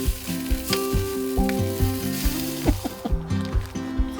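Mallard duck meat, one piece with herb and garlic and one with red wine, sizzles and fries in a pan inside a hunting blind in New Zealand, a steady close crackle with faint clinks and no talk.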